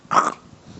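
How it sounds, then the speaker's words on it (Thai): A dog gives a single short, gruff bark at close range, followed by faint low rumbling. No howl follows. "เมื่อกี้อย่าไปตกใจครับเสียงหมาเห่าหมาหอน"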